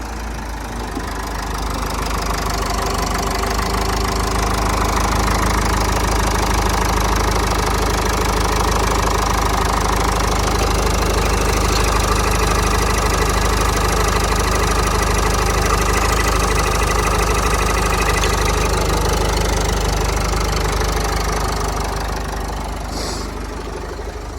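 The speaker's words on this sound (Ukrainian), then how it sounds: "робимо запуск двигуна" A Renault Koleos 4x4 engine runs steadily at idle with a close, continuous rumble and a light knocking rattle, without pauses.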